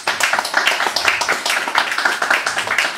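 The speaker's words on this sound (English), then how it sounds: "more applause for Peter Atwood," Applause from an audience at an evening talk, a close, lively patter of many hands clapping continuously throughout with fairly even intensity.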